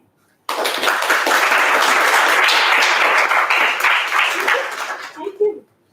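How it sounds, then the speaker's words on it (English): An audience at a student talk breaks into steady, loud applause that starts abruptly and holds for several seconds before tapering off, with some crowd voices mixed in. "clap for him"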